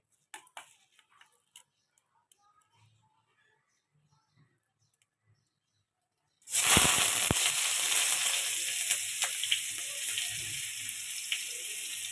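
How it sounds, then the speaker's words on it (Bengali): Rice frying in ghee. A few quiet clicks and clatters of preparation come first, then a sudden loud, steady sizzle starts partway through and carries on close-up to the end. "এক চামচ ঘি দিয়ে আর চালটা একটু ভেজে নেব"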